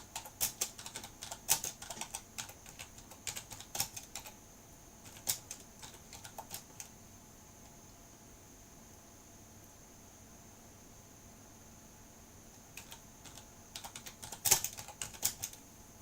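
Typing on a computer keyboard while writing a newspaper column, rapid clusters of clicking keystrokes in bursts with a quiet pause in the middle, fairly close and fairly soft over faint background hiss, no talking.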